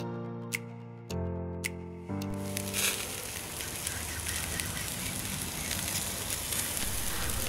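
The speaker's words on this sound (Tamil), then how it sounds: "இப்போ இந்த மேலே இருக்க கிரில்லரில் நான் கொஞ்சம் சாசேஜ், சிக்கன், ரிப்ஸ் எல்லாத்தையும் கலந்து சேர்த்துக்கிறேன்" Sausage, chicken and ribs sizzle on a barbecue grill with a dense, crackling hiss that starts after a few abrupt cuts and then holds steady and close. Sharp pops sound over it.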